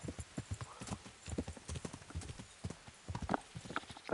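Horse hooves clip-clop in an even walking rhythm while riding in the medieval video game Kingdom Come: Deliverance, close and steady with an occasional faint whinny.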